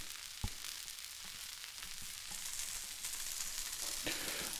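Pork cooking on an outdoor grill or griddle, giving a steady, close frying sizzle throughout with a few sharp pops and clinks of utensils; no one speaks.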